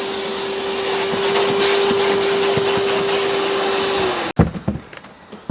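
A Giraffe Tools retractable vacuum cleaner runs with a loud, steady whine for about four seconds, then cuts off abruptly, leaving a few close handling knocks and clatters.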